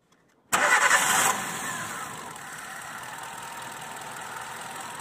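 A Chevrolet Spark with a sudden stalling fault cranks and catches after silence, a loud brief burst that settles into a steady, even idle held close to the engine.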